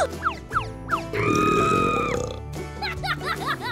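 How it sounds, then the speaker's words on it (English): A long, loud, exaggerated cartoon-style burp after eating chicken thighs, framed by short boing-like springy effects and grunts, with a sustained belch in the middle. "You eat so much that he burps."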